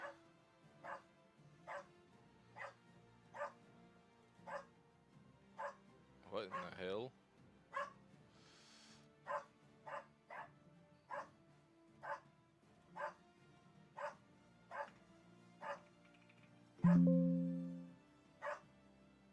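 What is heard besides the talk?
dog Dougie barking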